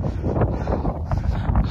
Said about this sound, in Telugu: ఎదురుగా గాలి